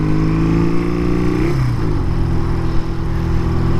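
A BMW R80 motorcycle with Hoske exhaust cans on straight-through headers runs loud and close, its engine tone sliding down in pitch before settling into a steady throaty idle, with no voices.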